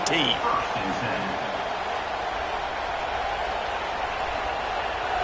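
A steady, loud roar of a packed stadium crowd in a college football video game, Alabama vs Florida, sustained and unbroken with a commentator's voice over the opening moments.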